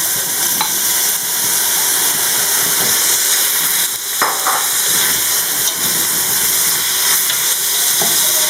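Pieces of lamb simmer steadily in a pot on the stove with boulgour and carrots, giving a continuous close bubbling sizzle and hiss that holds for the whole stretch, with a few faint clinks and no voices.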